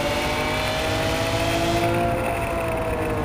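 A Lamborghini Aventador's 6.5-liter 60-degree V12, rated at 700 horsepower, drones on the Dubai Autodrome race track. A steady, loud engine note carries rising harmonic whines throughout, with no voices.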